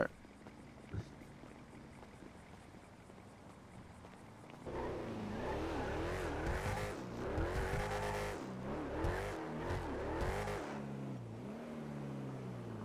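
A lifted Chevrolet SS-style pickup truck on mud tires in a video game starts off from quiet idle, then the engine revs hard through repeated rising and falling gear shifts, close and loud with no talking.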